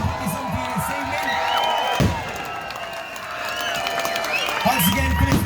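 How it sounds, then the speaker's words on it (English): Crowd cheering and whooping at an outdoor bonfire night event at a pub in Eton Wick, a sustained loud roar of many voices with scattered shouts, a voice over a PA system briefly audible at the start and end. "have a massive cheer, please, for all the volunteers"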